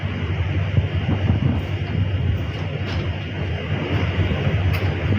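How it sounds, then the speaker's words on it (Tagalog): Strong typhoon wind roars steadily across a veranda before dawn, a dense continuous rush with low rumbling gusts and no break, loud and close to the microphone. "Malakas na rin yung hangin dito sa aking veranda."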